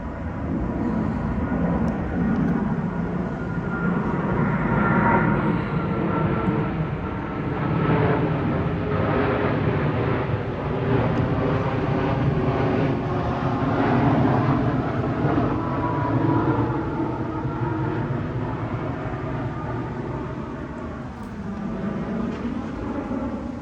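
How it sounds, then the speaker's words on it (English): An airplane flying overhead near a parked camper van gives a steady, broad roar that swells and lingers for over twenty seconds, loud and close, with no talk over it. "There's a plane."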